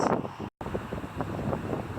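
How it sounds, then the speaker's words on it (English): Gusty wind buffets the microphone during a cycling ride on a blustery April day, a steady roaring rush with a brief dropout, loud and close with no talking. "It is a bit gusty today."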